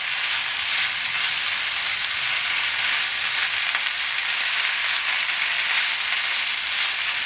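Chard leaves sizzle in a hot pan as warm vegetable salad ingredients are tossed together, a steady, close, even frying hiss running throughout with faint stirring scrapes and no talk.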